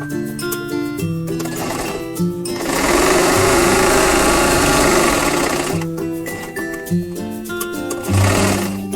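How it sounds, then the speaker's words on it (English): A sewing machine stitches fabric a quarter inch from a drawn line in steady, loud bursts, with a long continuous run in the middle and rhythmic start-stop stitching at either end, alone with no talk. "I'll turn around and sew on the other side."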